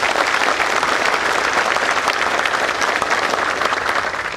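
Applause for soldiers from an Indonesian crowd, a dense, loud, continuous clatter of clapping hands that holds steady throughout.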